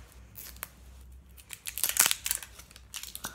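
Packaging of a lip pencil being torn and snipped open by hand, with crisp crinkling, tearing and cutting bursts that grow busier toward the middle, close and moderately loud, no talking.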